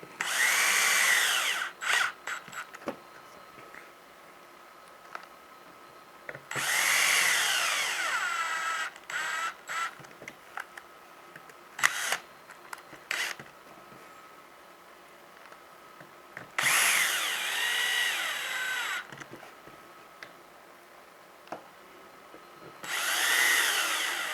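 Power driver running M3x10 screws back in to hold a steering servo on a 1:10 Rod Shop Sic-Drop chassis, several separate whirring bursts with small clicks and handling noises between them, close and fairly loud, no talking.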